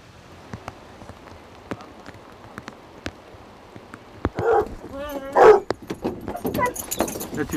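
Hunting dogs during a wild boar drive hunt in Ariège give a few barks midway, fairly close, amid sparse clicks and rustling, with people speaking quietly around them.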